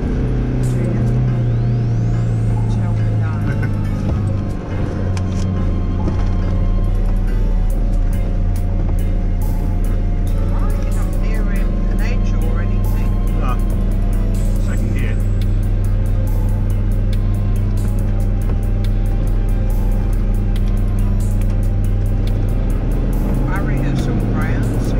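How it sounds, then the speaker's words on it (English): A camper van drives on the road with a steady low engine drone and rumble, constant road noise and some wind hiss from a roof light bar, continuous and fairly loud throughout. "we'll take it for a test run and see how it goes, see what that wind noise is like from the light bar"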